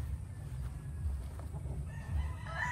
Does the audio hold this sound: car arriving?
no